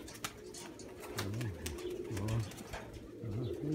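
Pigeons, including a white cock bird, coo in several low, rolling phrases close by on a training day, with occasional faint clicks and no talking.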